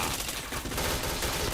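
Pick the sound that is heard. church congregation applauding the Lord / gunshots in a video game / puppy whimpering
gunshots in a video game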